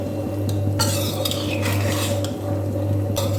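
A spoon stirs jujube pickle with jaggery in a pan over a lit gas flame, scraping and clinking against the metal in irregular strokes over a steady low burner hum and soft bubbling.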